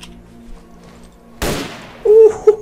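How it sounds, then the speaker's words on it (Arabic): A single sharp sniper rifle shot in Stalker Clear Sky cracks loudly after a quiet stretch and decays quickly, followed by brief tonal game sounds. "اوه صوت قناص."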